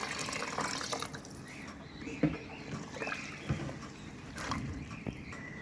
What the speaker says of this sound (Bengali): 1 কাপের মতো পানি দিয়ে দিচ্ছি।